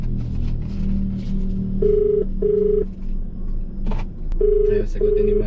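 A phone call rings out unanswered: a steady pulsing ringback tone repeats in short beeps over a low background hum and road noise, close and clear, with a few faint clicks.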